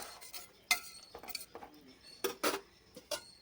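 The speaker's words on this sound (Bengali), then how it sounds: "এবার একটা খুন্তির সাহায্যে একটু নাড়াচাড়া করে নেব" A spatula stirs soft milk sweets made from puffed rice powder and milk in a pot with the gas turned off, giving close, intermittent scrapes and light metallic clinks in short bursts.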